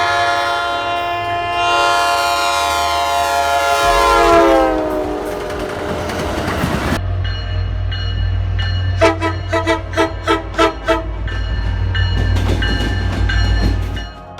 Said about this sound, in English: These locomotives use a Nathan K5LA air horn, as standard with the MBTA.